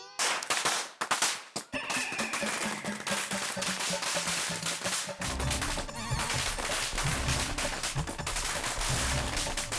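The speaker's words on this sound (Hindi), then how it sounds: "ये अब्दुल पटाखे क्यों फोड़ रहा है?" Firecrackers are set off outdoors in a rapid series of sharp cracks and pops. The bursts come thick and irregular, loud and close, with a crackling string of them running continuously through the second half.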